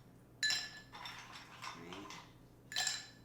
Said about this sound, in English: Take a few ice cubes.